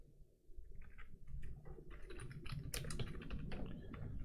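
Computer keyboard clacking as HTML code is typed, a quick irregular run of close, light keystrokes that continues without pause after a short quiet start.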